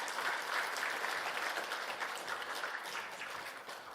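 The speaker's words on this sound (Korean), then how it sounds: "박수로 축하해 주십시오." A church congregation at a Sunday service claps for a pastor, steady dense applause filling the room for several seconds, fading slightly toward the end.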